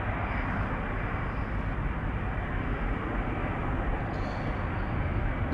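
A Cathay Pacific Airbus A350-1000 lined up on the runway at Amsterdam Schiphol Airport gives off a continuous broadband jet roar heard from a distance, steady and unbroken.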